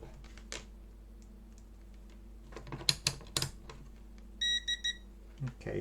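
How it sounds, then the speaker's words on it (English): Quiet clicks and handling noises over a low hum, then a short series of high electronic beeps from a multimeter in diode mode testing a Samsung TV's circuit board, three or four in quick succession. "Okay, it's beeping."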